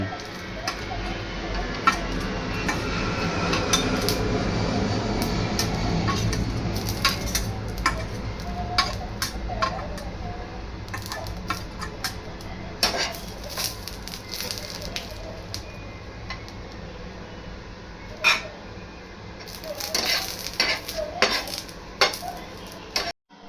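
Green chilies roast and get stirred in a pan: a soft sizzle runs through the first half, then scattered scrapes and metallic taps of the spatula against the pan grow sharper toward the end.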